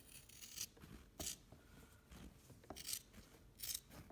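Scissors trimming a quilt seam allowance down to a quarter inch, a series of soft, close snips and crisp fabric cuts in an uneven rhythm, faint and without talk.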